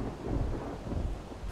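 Rain with a deep thunder rumble during a Project Zomboid game, a steady broadband wash of rainfall with low rolling thunder underneath, fairly quiet and continuous with no voices.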